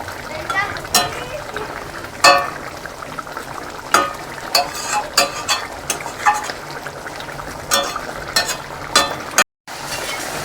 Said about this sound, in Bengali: গ্রেভিটা ফুটে গেছে, আমি এবার এক এক করে ওতে মাছগুলো